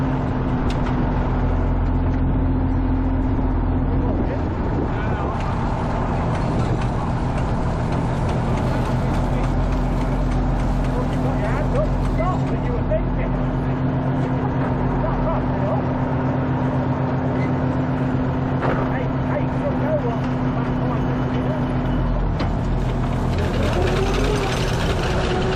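A tractor hauls a working reaper-binder through a field, a steady droning engine with a constant low hum and mechanical clatter from the binder, continuous and close throughout.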